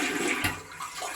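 Strong rush of water from newly installed household plumbing, a loud, close, continuous gushing flow with slight surges, no talking.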